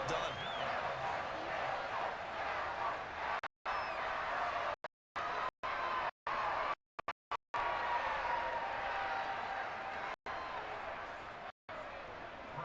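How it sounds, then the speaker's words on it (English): Stadium crowd in the Madden 23 video game during a Commanders vs Cowboys game, a wide, steady roar of applause and cheering that keeps cutting out into brief silences, with a commentator's voice over it. "Some applause for the defense there"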